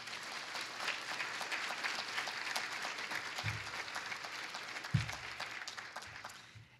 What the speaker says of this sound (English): I would ask for some applause in absentia.